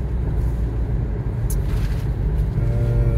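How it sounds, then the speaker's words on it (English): A car driving along a road in Zejtun, Malta, steady engine hum and road rumble heard from inside the cabin, continuous and fairly loud with a brief faint squeak partway through, no talking. "Rightio, another driving video. We are driving along Zejtun."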